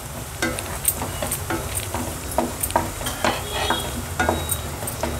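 Spices sautéing in hot oil for smoked chicken pulao give a dense, close sizzle. Frequent spoon scrapes and stirring clinks sound throughout.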